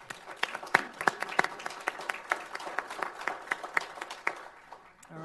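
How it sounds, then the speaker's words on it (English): A small crowd at a city council meeting gives a warm round of applause for the committee, steady close clapping that swells briefly and tapers off after about five seconds. "we're going to give them one more hand of applause to the committee"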